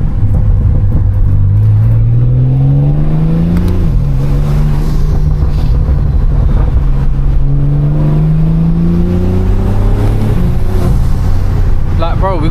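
A 1400bhp BMW M3 Touring on the road, its engine droning and rising in pitch as it accelerates, dips at a shift, then climbs again, loud and close from inside the car, with a voice talking over it.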